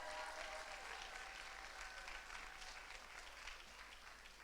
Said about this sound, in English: A big massive round of applause to Wallace, Perth and Drummond